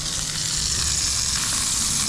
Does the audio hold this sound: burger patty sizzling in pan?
yes